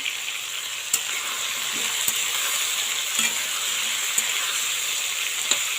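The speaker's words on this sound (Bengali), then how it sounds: "সবজিটা আমি সুন্দর করে ভেজে নিচ্ছি" Chunks of green papaya frying in a pan for a curry, giving a steady loud sizzle throughout with occasional faint clicks of stirring, no voices.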